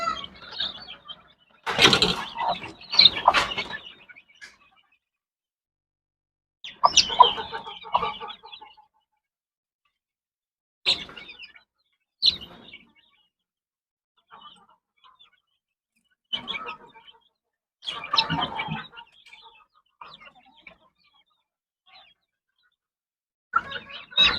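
Chicks and grown chickens cluck and peep in scattered bursts with quiet gaps between them, close by and fairly clear, with no talk over them.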